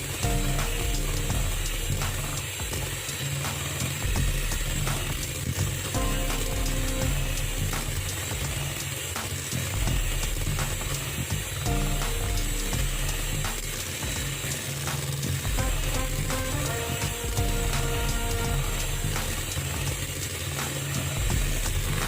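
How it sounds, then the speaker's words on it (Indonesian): An electric mixer beats cookie batter for kue lidah kucing until it turns pale and fluffy. The drone is loud, continuous and whirring, with a constant mechanical rattle throughout and no talking. "ini di mixer sampai pucat dan mengembang"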